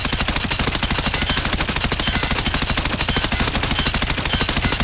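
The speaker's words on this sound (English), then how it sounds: "Okay, I'm done shooting." Automatic rifle fire in the video game Escape From Tarkov rattles out as one unbroken, loud, rapid burst of evenly spaced shots, close and without any talk.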